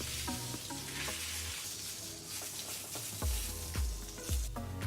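A bone-in tomahawk steak sears in a pan with butter, giving a loud, bubbling sizzle throughout with occasional low thumps and spatters as it is moved.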